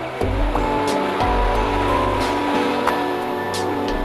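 Ocean waves rolling onto a Barcelona beach, a steady broad wash of surf with soft crashes at close range and no voices.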